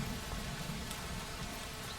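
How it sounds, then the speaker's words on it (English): Steady rain in the video game Among Trees, a soft continuous hiss with no distinct drops or other sounds standing out. "It starts raining."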